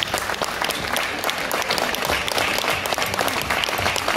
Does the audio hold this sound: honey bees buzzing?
no